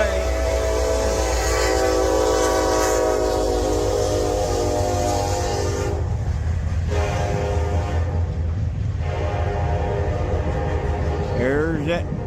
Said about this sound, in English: There's that trash train again.